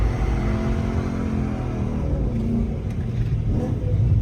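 A BMW M3 E90 engine given light throttle blips, a loud, close, rumbling idle that swells gently in small revs throughout, with no talking over it.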